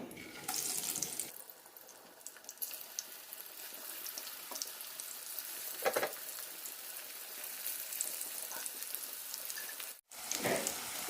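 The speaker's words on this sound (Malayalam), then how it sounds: "വാഴക്കയുടെ പീസുകൾ വറുത്തെടുക്കാം" Raw banana pieces fry in a pan on a low flame, giving a steady, close hiss of sizzling oil throughout, with a louder burst at the start and a brief dropout near the end.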